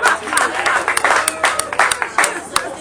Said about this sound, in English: So I want you to clap for that too.